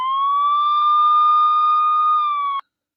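Electric guitar played to imitate a siren, a loud sustained wailing tone that rises slightly, holds for over two seconds, then cuts off abruptly into silence.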